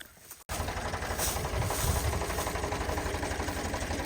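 A farm tractor engine runs steadily and loudly close by after a brief quieter moment, its low throbbing rumble continuous throughout.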